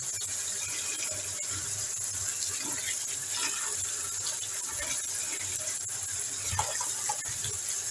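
Tap water runs into a kitchen sink to rinse oranges for marmalade, a steady close splashing stream with a few louder gurgles and clinks partway through, and no talking.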